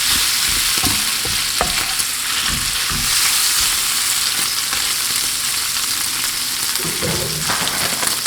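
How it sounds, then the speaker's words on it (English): Bacon frying in a pan as the base for a breakfast burrito, a loud continuous crackling sizzle with occasional utensil knocks, close up and with no talk. "you're not going to cook this bacon all the way to like a crisp"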